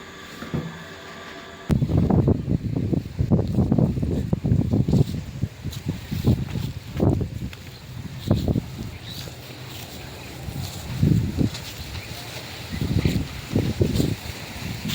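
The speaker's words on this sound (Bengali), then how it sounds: "প্রচণ্ড হাওয়া দিয়েছে, প্রচণ্ড হাওয়া দিচ্ছে, বারবার পড়ে যাচ্ছে সব হাওয়াতে" Strong wind gusts outdoors, where washed clothes and sweaters are hung to dry, buffet the microphone in loud, uneven rumbling bursts that swell and fade over a softer steady rush.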